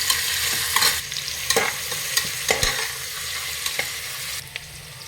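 Onions fry in a pan for jackfruit biryani, giving a steady close sizzle. A spoon scrapes through them in repeated stirring strokes.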